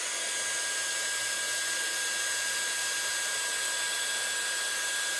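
Heat embossing gun blowing hot air into open space, a steady loud whooshing hiss with a faint whine that holds unchanged and alone throughout.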